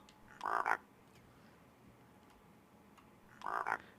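Two loud frog croaks in a multiplayer game scene, about three seconds apart, each a short raspy burst standing out over a quiet hissing background.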